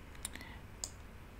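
A computer mouse clicking at a desk while attributes are selected in the Unity animation editor: two sharp, close clicks about half a second apart over quiet room tone, with no talking.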